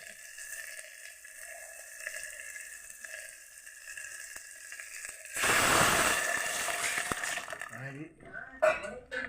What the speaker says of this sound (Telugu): అమ్మా నీళ్ళు పోతున్నా